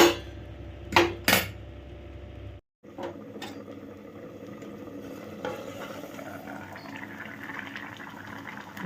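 A covered pot of potatoes boiling in water for a paneer curry, a few lid and pot knocks at the start, then a steady low bubbling simmer that carries on close and fairly quiet.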